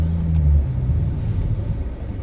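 A car engine idles in a closed garage while warming up: a steady, close, low rumble with a slightly heavier burst early on, then an even drone with no voices.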